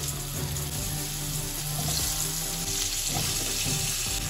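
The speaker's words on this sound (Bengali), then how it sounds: "এখানে আমি দুটো আলু লম্বা লম্বা করে কেটে নিয়েছি, সেগুলো আমি তেলের মধ্যে দিয়ে দিচ্ছি।" Long-cut potato slices fry in hot oil with black cumin for a hilsa and eggplant curry, a constant dense sizzle close up, with faint bubbling and clinks underneath.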